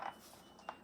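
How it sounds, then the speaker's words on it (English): A laundry machine's ready alarm gives two short, fairly faint beeps, one at the start and another about half a second later, with a quiet room behind them. "that's the alarm to let me know laundry's ready."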